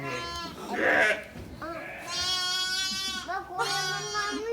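Newborn lambs on a farm bleat close by in several long, quavering calls, one after another, with people talking softly among them.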